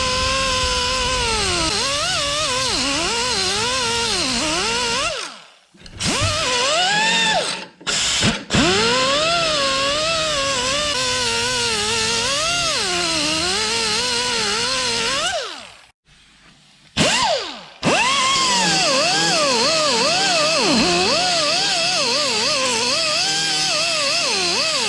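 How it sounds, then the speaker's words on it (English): A 3-inch 90-degree air cutoff tool slicing rocker panel sheet metal on a Mercury Sable station wagon, a loud shrill grinding whine that rises and falls as the wheel bites, broken by several short pauses before starting again. "I have to resort to the 3-inch 90-degree air cutoff tool to finish this up, and it's doing the job in the tighter area."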